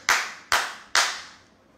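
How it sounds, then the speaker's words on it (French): Three sharp, loud hand claps close by, evenly spaced about half a second apart, each ringing out briefly in a reverberant space before the next. "oh, applaudissez."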